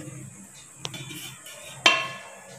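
A lid is set over a kuttu appe pan, producing a light metallic tap followed a second later by a louder clink that rings out briefly over a faint background sizzle.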